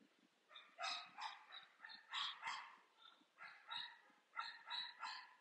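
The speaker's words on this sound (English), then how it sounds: "So, and Salakia, that's the dog in the background." A dog barks in the background, a faint, distant series of about a dozen sharp barks in quick bursts, heard alone with no talking.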